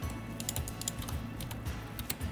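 Soft, steady computer keyboard typing during Cinema 4D modeling work, a quick stream of light key clicks with occasional heavier taps, fairly quiet and close.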